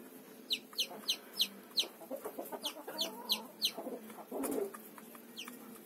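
A hen and her small chick cluck and peep nearby on a summer farm in Kuban, Russia, the chick's high cheeps repeating in a quick steady run over a soft rustling background.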